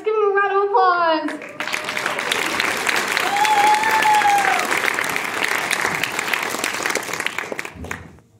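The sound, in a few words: audience applause after a high school play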